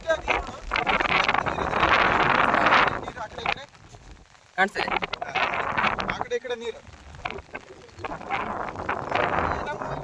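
Wind buffets the microphone in loud gusts beside a lake in flooded farmland, with rough broadband rumble and someone speaking over it.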